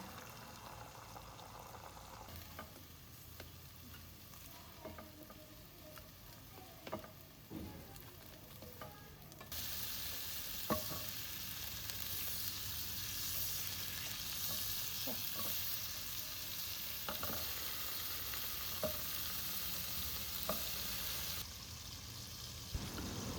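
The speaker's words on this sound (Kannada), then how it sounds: "ബട്ടറിൽ നല്ല ഫ്രൈ ആക്കണം" Ginger-garlic paste and tomatoes sizzle and fry in melted butter in a pan, a steady crackling hiss that grows busier and louder midway, with occasional stirring clicks and no talk.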